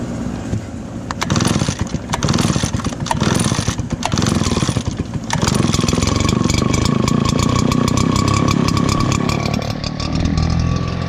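A Redmax engine cold starting in winter with the choke on: a loud, rough, uneven running that sputters at first, then settles into a steadier, denser idle rumble with some clanking. No one speaks.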